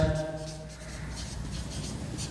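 Marker or chalk scratching across a board while trigonometry identities are worked out, a steady close rubbing texture with short strokes running through the whole moment, no talk over it.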